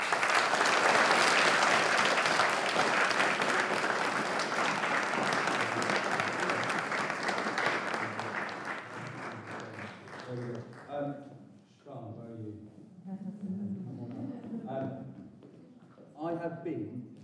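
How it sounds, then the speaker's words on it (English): Audience applause after a junior school production, a loud sustained wash of clapping for about ten seconds that fades out as a speaker begins talking over the last of it. "Let's give you a big round of applause."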